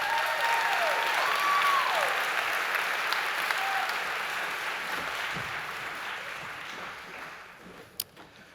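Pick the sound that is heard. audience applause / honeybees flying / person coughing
audience applause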